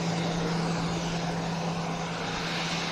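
An aircraft rolls in on the runway at Kennedy Space Center during crew arrival, a loud steady engine roar with a constant low drone filling the whole clip, no voices.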